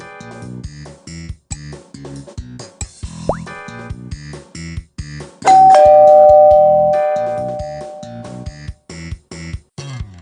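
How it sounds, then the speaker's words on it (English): Doorbell chime in the Arthur's Puppet Theater children's game, a single bright ding-dong that rings out and slowly fades over a bouncy plucked music loop. "The doorbell rang."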